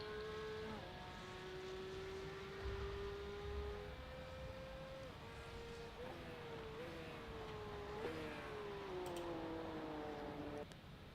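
A Porsche Cup race car in a racing video game laps the Sachsenring alone, its engine a steady whine that rises and drops with gear changes throughout.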